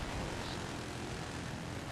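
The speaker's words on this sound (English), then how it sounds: "Helicopter's still flying around" A Battlefield 3 helicopter roars in a steady, dense drone that fills the scene without a break, with no voices over it.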